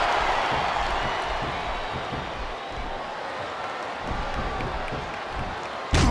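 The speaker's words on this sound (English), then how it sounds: "I think these superstars are getting some feedback from the crowd" A large wrestling arena crowd roars and cheers continuously in the video game WWE SmackDown vs. Raw 2007, a dense wash of voices at steady volume with no clear speech over it.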